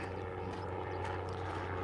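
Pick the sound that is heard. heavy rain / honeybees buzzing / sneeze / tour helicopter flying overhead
tour helicopter flying overhead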